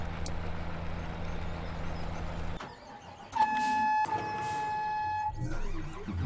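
Truck in Farming Simulator 17 on a North West Texas farm map, its engine droning steadily, dropping out briefly midway and returning with a brighter, tonal whine and clunks as it drives off.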